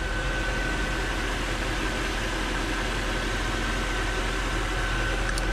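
A Mercedes 500S limousine's V8, converted to run on E85 ethanol, idles steadily and evenly at close range, a continuous low rumble with no talk over it.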